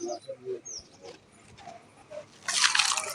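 Water poured into a container at home, rising into a bright, close splashing rush over the last second after quiet drips and faint background sounds.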